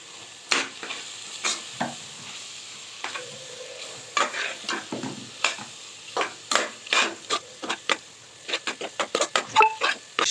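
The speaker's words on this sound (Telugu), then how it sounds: "గరం మసాలా వేసి కలుపుకోండి గైస్. ఒకసారి మంచిగా కలిపేసుకోండి." A spoon stirs garam masala through cabbage kurma in a pan, giving irregular scraping taps that come quicker toward the end over a soft sizzle, close and without talk.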